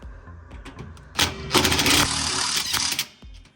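A power screwdriver drives a screw into a Viking oven door, quiet handling followed by a short, loud buzzing whir in bursts of about two seconds, close to the microphone, then fading to small clicks.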